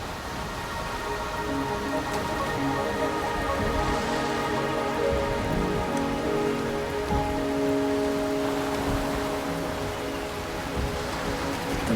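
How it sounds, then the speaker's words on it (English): Steady rain pours across surfaces in the video game Wuthering Waves, a dense, even hiss that holds at the same loud level throughout, with no voices. "The rain is subsiding, and the sky will soon clear."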